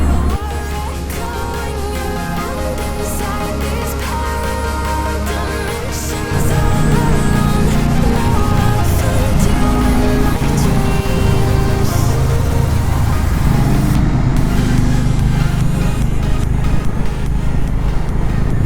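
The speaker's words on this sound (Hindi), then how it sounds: "भाई गजब गूंज रही है आवाज़ बाइक की तो।" A loud, continuous motorbike engine roar fills a short tunnel with a booming, reverberant echo, growing heavier partway through as if the machine is enclosed.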